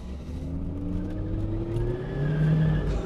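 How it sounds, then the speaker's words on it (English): Supercharged Toyota Previa minivan accelerating hard, its engine note rising steadily with a supercharger whine and a short tire squeal from one wheel spinning, heard from inside the cabin. "Got the tire loose a little bit there, the one wheel peel"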